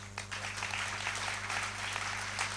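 Brief clapping from listeners at a large Hindi poetry gathering, a poets' meet held by a town council, applauding a poet over a steady electrical hum from the sound system.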